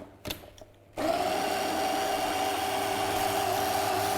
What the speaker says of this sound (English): Okay, so then I want to whisk all those together.